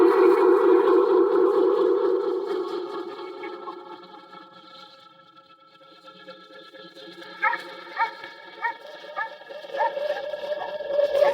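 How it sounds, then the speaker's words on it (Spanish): A dog barks in a quick series of sharp yips on an old tape recording, following a long wavering tonal hum and wind-like drone that fades before the barks begin. "Se puede escuchar al viento y los ladridos de un perro."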